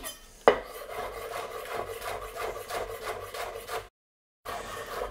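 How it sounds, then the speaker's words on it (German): Knife chopping flat-leaf parsley coarsely on a board, a close series of rapid rhythmic cuts with a sharp knock at the start and a brief gap near the end. "Die Petersilie, da schneide ich nur grob drüber."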